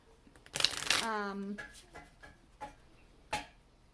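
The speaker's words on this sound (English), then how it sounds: "So I'm gonna go ahead and get you a couple oracle cards" A deck of oracle cards is shuffled in a quick riffle burst, followed by a few soft taps and card handling sounds, close up and otherwise quiet.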